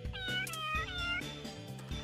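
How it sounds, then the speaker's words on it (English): A cat meows repeatedly in the video game Persona 2, a run of close, clear, rising-and-falling meows in quick succession with no pauses. "I can't take that meowing anymore"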